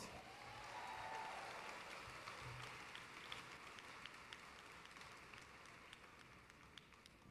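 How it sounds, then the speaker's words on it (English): Applause for a Congressman at a state Democratic Party convention, a broad wash of clapping from a large hall that swells early and then slowly thins. "Let's give the Congressman another round of applause."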